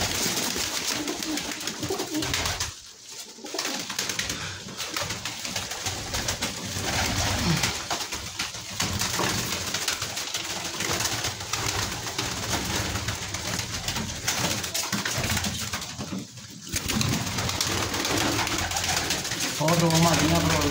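A flock of about fifty large pigeons kept for sale coo continuously and densely, close to the microphone, with faint voices in the background.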